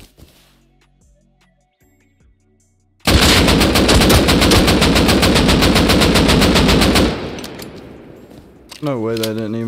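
M2 firing in the game Rust with a broken suppressor: after near silence a loud, rapid, unbroken automatic burst lasts about four seconds and then decays, followed by a voice speaking.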